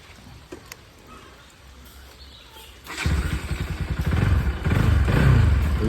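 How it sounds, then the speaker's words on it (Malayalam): A few light clicks and taps, then a motorcycle engine starts near the end of the third second and settles into a loud, throbbing idle with slight revs. "ഇനി നിങ്ങൾക്ക് വണ്ടി ഒന്ന് സ്റ്റാർട്ട് ചെയ്തൊന്ന് സൗണ്ട് കേൾപ്പിച്ചു തരാം"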